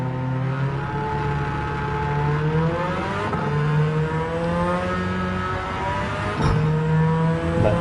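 A race car engine in Gran Turismo 7 holds a loud, steady drone in a Tokyo 600 race, its pitch climbing, dipping and climbing again through gear changes, with a brief sharp blip near the end and no talking.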